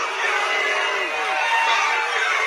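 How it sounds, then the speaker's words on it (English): A large crowd roars and jeers at a man, a steady loud wash of voices with no single words standing out. "They booing that man. They booing that guy."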